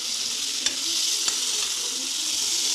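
Potatoes fry in a pan with a bright, continuous hiss, joined by a couple of quick scraping stirs.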